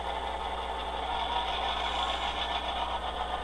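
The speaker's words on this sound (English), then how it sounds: "We'll put a little pressure on it to simulate load." A steady diesel engine rumble from an Athearn GP-7 model locomotive with a SoundTraxx sound decoder, humming continuously with a slight rattle as it works under load, no voices.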